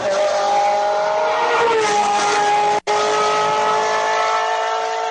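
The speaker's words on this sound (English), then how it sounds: "play the sound again of the Ferrari going around a racetrack" A Ferrari race car screams around a racetrack at high revs, a loud continuous engine wail with a brief gear-shift break midway.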